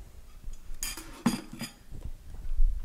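A spoon clinks and scrapes against a bowl while eggs are mixed into bread pudding batter, a few quick close metallic taps and stirring scrapes over a quiet kitchen background.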